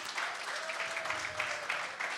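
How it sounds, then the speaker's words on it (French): Warm applause from an audience, a dense patter of many hands clapping together for a couple of seconds. "Une fois de plus, on applaudit très chaudement Pasteur Timothée Chauvin."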